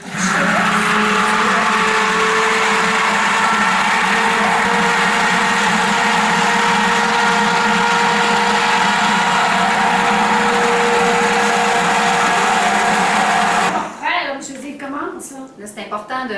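A blender motor whirs in a steady, loud drone while lye and oils are mixed for cold-process soap, then cuts out near the end, leaving brief clattering.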